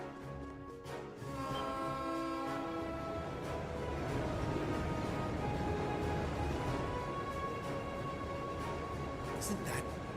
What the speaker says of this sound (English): It's a freight train from Bereahard?